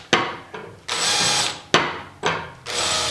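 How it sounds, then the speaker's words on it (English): A countersink drill bit chamfers and cleans up the holes in a table saw throat insert, giving several short whirring bursts of about half a second to a second each, close up and loud, with no talking. "I'm just going to use my countersink drill bit just to clean those holes up a"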